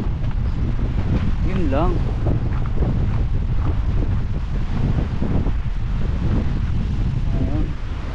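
Strong wind buffets the microphone at Weymouth Beach, New Zealand, a loud unbroken roar with surf beneath it, while someone speaks briefly over it.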